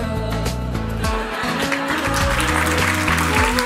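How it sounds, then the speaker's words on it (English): Guests at a Hong Kong wedding applaud over loud music with a strong bass beat, the clapping a steady patter partly buried beneath the music. "Come on, a round of applause, louder."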